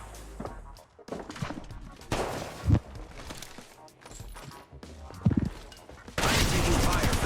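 Gunfire in the Apex Legends Mobile video game comes as a few sharp, scattered shots, separated by quieter stretches with footsteps and thuds, ending in a louder, denser burst of fire.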